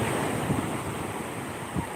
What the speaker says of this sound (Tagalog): ito, nagwawala na naman ang ating dagat.